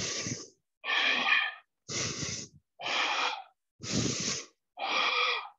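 Six deep, even breaths during a power yoga stretch, alternating inhales and exhales about once a second, close and loud with clean silent gaps between each breath.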